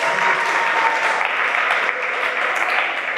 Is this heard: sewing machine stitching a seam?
no